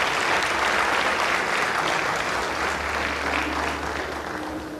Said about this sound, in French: Miss Mebinga, je vous prie d'applaudir.